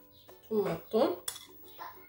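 Utensils clink and scrape against a bowl while a salad is mixed with mayonnaise. There are a few close, bright knocks in uneven bursts over a quiet room.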